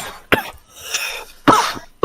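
A person coughs in several sharp, close bursts: one short cough, a longer rough stretch, then two more hard coughs, with no other sound around them.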